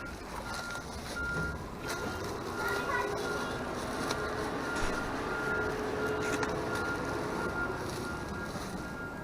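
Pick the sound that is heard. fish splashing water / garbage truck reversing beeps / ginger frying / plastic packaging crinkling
garbage truck reversing beeps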